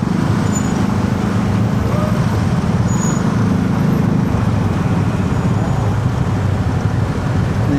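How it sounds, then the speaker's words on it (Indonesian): Heavy traffic jam on a Jakarta street near Pasar Rumput, a steady, loud rumble of idling and creeping cars, buses and trucks, with faint voices in the mix. "Nih, bisa kita lihat ya, macet banget ya."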